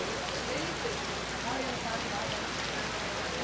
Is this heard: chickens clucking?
no